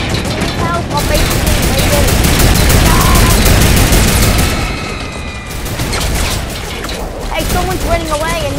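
Minigun fire in Fortnite rattles in long, loud, rapid bursts with booming impacts, pausing briefly midway and then resuming, with game effects layered over it.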